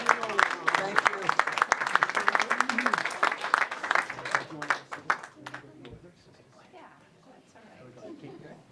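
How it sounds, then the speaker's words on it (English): An audience at a school event applauds for Juno, a crowd of rapid, crisp claps mixed with talking voices, dying away to quieter chatter toward the end. "Big round of applause for Juno."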